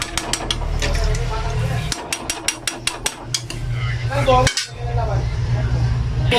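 A utensil clanks and scrapes against a pot while milkfish soup is stirred, with rapid metallic taps and a low simmering rumble underneath, close and fairly loud.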